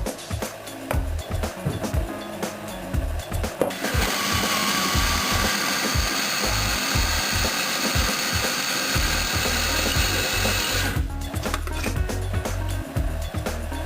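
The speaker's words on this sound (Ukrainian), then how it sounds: "Смородину я закинув в свій комбайн." A kitchen food processor grinds blackcurrants with sugar, its motor whirring loud and steady for several seconds between quieter handling clatter at the start and end.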